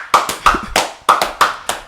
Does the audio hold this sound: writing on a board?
no